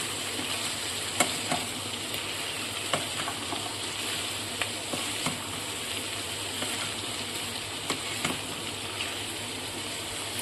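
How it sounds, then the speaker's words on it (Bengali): Chicken pieces sizzle steadily in a hot pan of oil, with scattered scrapes and clicks as they are stirred, a continuous close frying hiss with no talking. "চিকেনগুলো দিয়ে একটু নাড়াচাড়া করবো এর মধ্যে"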